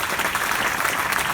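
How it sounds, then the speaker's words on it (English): Audience applause at a startup business summit in The Hague, a steady wash of many hands clapping that fills the whole brief moment without letting up. "Please give a round of applause to Roberto from Avenue."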